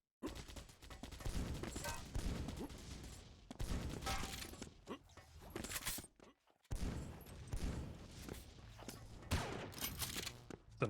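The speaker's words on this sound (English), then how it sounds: "A nice rocket. demsix used that." Rapid blasts and impacts fire off during a Doombringer arena duel, with dense bursts of explosions and weapon fire in quick succession broken by a brief silence, fairly close and loud, with no voices.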